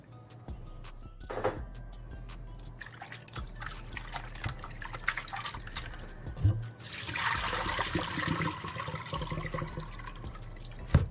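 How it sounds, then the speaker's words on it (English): Tap water runs and splashes as salt is washed off saltfish (salted codfish) in a kitchen, with irregular drips, trickles and handling noises, then a fuller gush of running water toward the end. "So we're gonna wash off all the salt off it."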